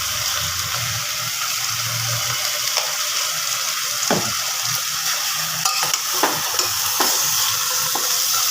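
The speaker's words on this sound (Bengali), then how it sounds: "মাংসগুলোকে আর সবজিগুলোকে নাড়াচাড়া করে নেব" Meat and vegetables with chilli and salt fry in a pan while a spoon stirs them, producing a steady sizzle broken by scraping strokes and clinks against the metal.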